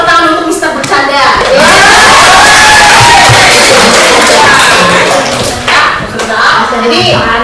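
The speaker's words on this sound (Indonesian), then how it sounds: "kita tepuk tangan untuk Mister Bercanda" A classroom of children bursts into loud clapping and cheering that peaks in the middle. A teacher's voice and kids' chatter come just before and after.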